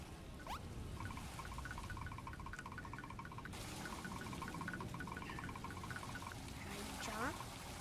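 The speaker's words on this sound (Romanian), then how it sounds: "Turn on the stove and every faucet." Water runs from faucets inside a Roblox video game, heard as a faint, steady hiss. Soft repeating game tones play over it throughout.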